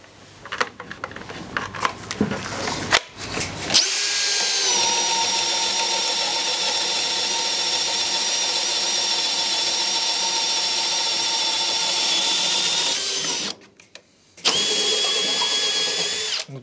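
A Makita cordless drill bores a large-diameter hole at first speed, whining steadily and loudly for about ten seconds, pausing briefly, then starting again, with a few clicks and handling noises beforehand.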